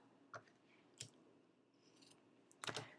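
Scissors snip through craft ribbon, giving a few crisp, isolated clicks with quiet gaps before a brief, busier burst of cutting at the end.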